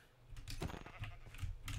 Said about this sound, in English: We're just annihilating the sheep.